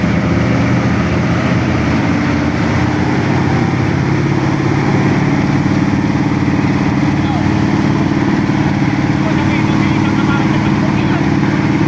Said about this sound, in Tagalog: Talagang ramdam mo yung lakas ng makina.